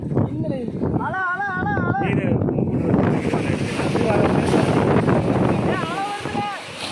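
Sea waves splashing against a boat during sea urchin hunting: steady rushing water and wind buffeting close to the microphone, with people talking and calling out over the noise.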